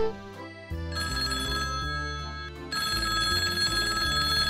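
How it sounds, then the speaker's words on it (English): A telephone rings with a bright electronic melody during a Paw Patrol toy episode, layered over music with tonal phrases shifting in steady bursts, close and clear with no talk. "It's the phone, Chase"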